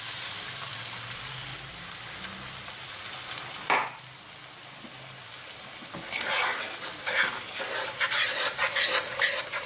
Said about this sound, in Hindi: अब इसमें हम स्क्रैम्बल्ड एग बनाएंगे।